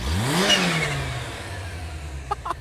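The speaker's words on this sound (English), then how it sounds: "it may be the first supercharger I've heard with blow-off sounds" A supercharged car engine revs up sharply and then settles into a steady idle. A couple of short hissing blow-off bursts follow near the end.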